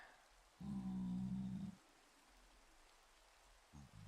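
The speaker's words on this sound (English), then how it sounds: "It's raining." Rain in Minecraft during a hardcore ocean-only playthrough, heard as a short wash of steady rain-like noise that rises abruptly and then cuts off, followed by quiet background.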